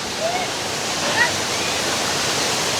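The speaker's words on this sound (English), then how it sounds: "I don't know if you can hear already the sound of the waterfall" Steady rushing hiss of an artificial waterfall in a park in Nice, France, a constant broadband roar heard close by, with faint bird chirps over the top.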